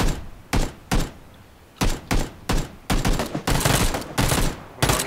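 Rapid bursts of gunfire in the video game Ark: Survival crack out in irregular clusters, some single shots and some longer strings, loud and close with short pauses between.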